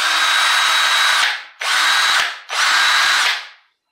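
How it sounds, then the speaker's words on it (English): A Ryobi cordless power drill running on a DeWalt 20V Max battery via an adapter whirs at high speed in three bursts, close and loud, each spinning up and winding down, with silence after the last. "This is an awesome drill"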